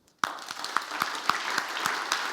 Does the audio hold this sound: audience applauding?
yes